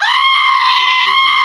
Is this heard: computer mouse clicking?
no